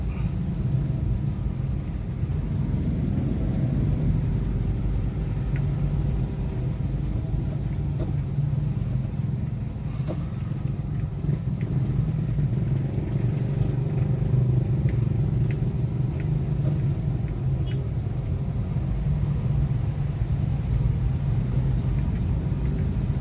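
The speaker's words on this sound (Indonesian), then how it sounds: "Kondisi macet, padat." Steady low engine rumble of a traffic jam crawling through a flooded street outside Hotel Harper in Palembang, a dense, continuous drone of cars and motorbikes at close range with no clear talk over it.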